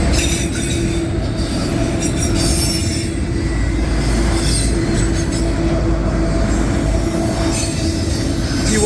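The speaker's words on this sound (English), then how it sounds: "Got a Conrail coming up right here." Long CSX autorack freight train rolling steadily past at close range, a continuous loud rumble of wheels on rail with sustained wheel squeal, no talking.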